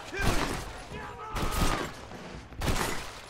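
Gunfire in the Western video game Red Dead Redemption, three sharp loud shots spaced about a second apart with echoing tails over a background of game sound.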